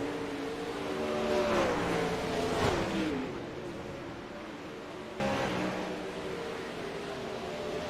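360 sprint cars race at Eldora Speedway, engines droning at a steady moderate distance with rising and falling pitch as cars pass, a brief louder surge mid-way before the sound settles back to a continuous roar.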